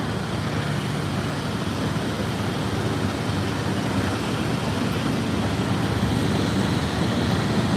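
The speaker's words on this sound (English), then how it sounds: "And then the helicopter, I think he's pulling out." A helicopter lifts off and pulls out beside the East River in New York City, a steady loud rotor and engine roar that fills the scene with broadband noise.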